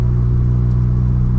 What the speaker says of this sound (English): I'm already noticing that I actually hear the exhaust